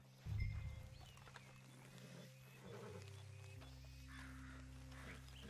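Horses in the Red Dead Redemption 2 video game, a loud snort or whinny burst at the start followed by restless low rumbling and steady ambient hum, no talking.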